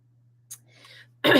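A brief pause with a faint hum, a small throat sound, then a single sharp cough bursts out at the end, close and loud.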